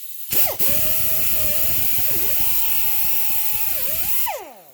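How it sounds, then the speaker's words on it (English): An abrasive cut-off wheel grinds through a thin steel exhaust pipe on a Ford Explorer, a loud sustained high whine that dips in pitch twice as the disc bites, then winds down at the end. "Death wheels are great for starting the initial cut. They cut through steel like butter when it's thin material."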